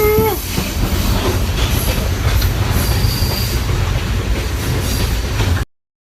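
A train on the Hiwassee Rail Loop in Tennessee rolls along the rails with a loud steady rumble, wheels squealing and clattering close by, ending abruptly.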